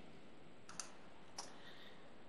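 Two crisp, faint computer mouse clicks while working in Microsoft Word, spaced about half a second apart against a quiet room hum.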